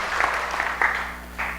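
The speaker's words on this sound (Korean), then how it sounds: "우리 세 분을 위해서 박수해 주시겠습니까?" A church congregation claps during a Wednesday worship service, a brief burst of crowd applause from many hands that swells, dips, and flares once more before fading, heard inside the sanctuary without speech over it.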